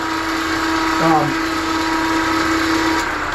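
A grinder runs steadily while sharpening a skew paring chisel, giving a constant high whine with a strong hum underneath. A brief voice cuts in about a third of the way through.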